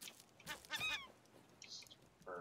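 A couple of loud, nasal goose-like honks from a bird in the video game Raft near the start, then quieter chirpy game sound effects, with no talking.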